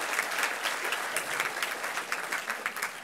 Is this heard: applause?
yes